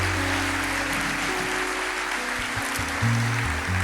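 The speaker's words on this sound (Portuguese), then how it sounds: "Aplauda o Senhor" Congregation applause during a church service forms a steady, noisy wash of many hands, with low sustained organ-like tones beneath it and no speech.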